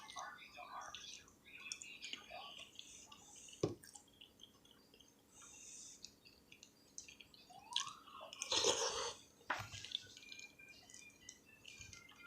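Wet, close-up chewing of green beans at a soup and grilled cheese mukbang, with soft squishy bites and drippy mouth sounds spread through the stretch, plus a few louder smacks and faint breathy whispering.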